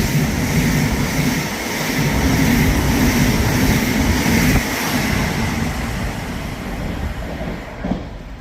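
A train rumbles past Hitchin station on the East Coast Main Line, steady broad roar and metallic hiss, sustained for several seconds before easing slightly.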